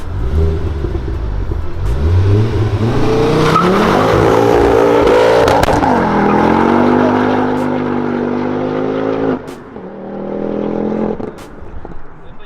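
A Porsche sports car engine roaring loudly as it accelerates hard, pitch climbing through the gears with brief shifts, sustained and close throughout.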